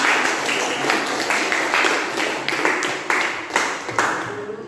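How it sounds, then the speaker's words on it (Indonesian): A classroom group clapping hands together, a dense burst of many overlapping claps with a few sharper accents, sustained for several seconds at close to mid distance with no talk. "kita baru tepuk tangan dulu"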